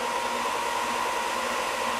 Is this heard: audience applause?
no